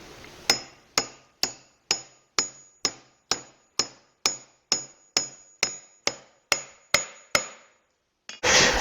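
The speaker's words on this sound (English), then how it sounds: "And now I'll put that steel wedge in." A steel wedge is driven into a hammer handle with about fifteen crisp, evenly spaced metallic hammer strikes, each ringing briefly before the next, close and alone, ending with a duller scraping knock.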